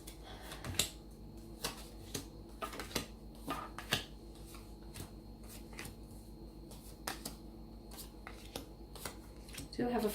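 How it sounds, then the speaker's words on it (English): A deck of tarot cards is shuffled by hand, giving quiet, irregular riffling clicks and soft snaps spread over several seconds with no talk. "let's shuffle the card and see what's coming out"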